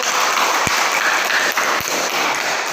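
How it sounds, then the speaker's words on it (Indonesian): A classroom of students claps for a group that has just presented its poster, a steady broadband wash of applause lasting the whole moment with a couple of sharp knocks. "Tepuk tangan buat kelompok."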